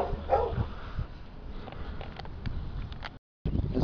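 Dogs bark and yip in a suburban Bundamba, Queensland neighbourhood of old and new houses: faint, scattered barks from some distance over steady outdoor background noise.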